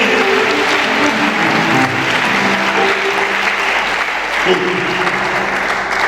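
A church congregation applauding during worship, loud sustained clapping from a large crowd filling the room, with voices and a low tonal backing mixed underneath.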